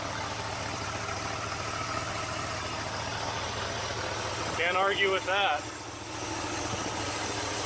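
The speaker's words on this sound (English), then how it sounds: "Nice low idle, probably 500 RPM." A 1976 Ford F-250 with a 390 FE V8 idles low and steady in the background, a continuous even rumble, while someone speaks briefly over it partway through.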